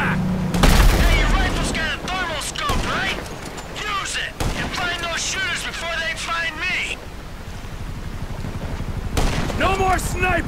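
Gunfire from shooters on a race track in GTA 5, sharp cracks and bursts popping under continuous game voices and harmonic chatter across the scene.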